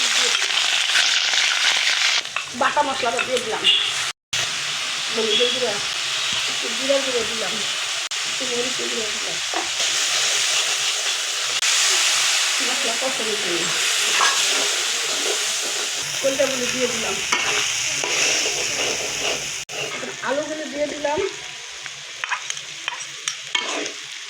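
Chicken livers frying with onion in hot oil in a wok, a steady loud sizzle throughout, with the scrape and clatter of stirring and a voice talking over parts of it.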